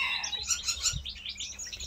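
Several birds in an aviary chirp and tweet in busy overlapping calls, fairly close, with a faint low rumble of background noise underneath.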